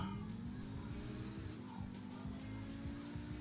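A Lamborghini Sian driven in the video game GTA 5 hums with a steady, continuous engine drone that climbs slightly in pitch, holding at an even level throughout with no talking.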